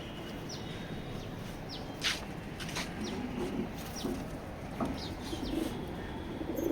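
Racing pigeons from a good breeding line coo in a loft, soft repeated low calls rising and falling throughout against steady background noise, with a few sharper chirps from other birds.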